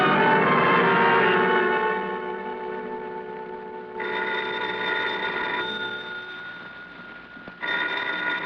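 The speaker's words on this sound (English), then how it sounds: "The phone." An old telephone bell rings in a 1951 radio suspense drama, a loud sustained ring that fades, then two more rings a few seconds apart, heard clearly with no voices over it.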